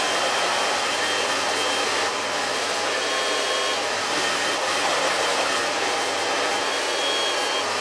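A hair dryer blow-drying hair in a salon roars in a loud, constant airy whoosh, close up and unbroken for several seconds.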